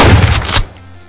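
Burst of video game gunfire in Doom, a loud rapid fusillade of shots for about half a second that cuts off and leaves a low rumbling tail.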